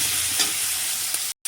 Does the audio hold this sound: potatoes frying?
yes